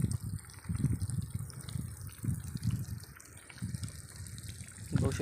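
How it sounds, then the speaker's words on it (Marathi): Water gushes strongly and continuously from a well pipe, a low churning rush with surging pulses, close and loud. "कसं पाणी उडाल एक नंबर मस्त हिरीचा बघा"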